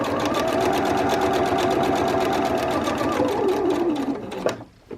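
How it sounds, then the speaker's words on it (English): A sewing machine runs a long straight basting stitch across fabric, a loud close rapid rhythmic clatter of the needle that holds steady, slows slightly, then stops abruptly near the end, leaving brief quiet. "We're simply going to sew a straight line all the way to the end."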